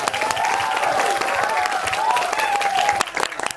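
A scouting talk-show audience claps for SMK Negeri 1 Purbolinggo, a full burst of applause with some crowd voices and whoops mixed in, easing off near the end.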